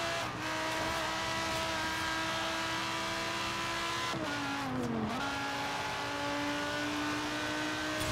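A Lamborghini Sesto Elemento supercar engine in the racing game Forza Horizon 3 holds a steady, loud, high-pitched rev that dips briefly and climbs again, sustained throughout with no talk.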